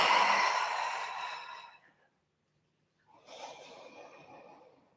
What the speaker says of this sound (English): Try to really breathe into all four corners of your lungs